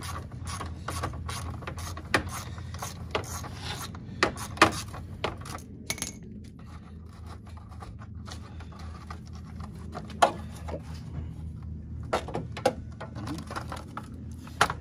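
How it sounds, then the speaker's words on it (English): A screw and nut being removed from a Ford F-250 front bumper, heard as rapid metallic ratchet clicking in bursts with small clinks and taps, close up and without speech. "Alrighty, we're gonna remove screw and nut number 2. Like I said, 11mm up top and at the bottom."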